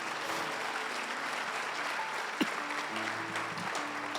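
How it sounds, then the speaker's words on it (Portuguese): A church congregation applauds, a continuous even patter of many hands clapping at moderate distance, with faint tones and a brief knock partway through, no speech over it. "Você pode aplaudir a Jesus por isso?"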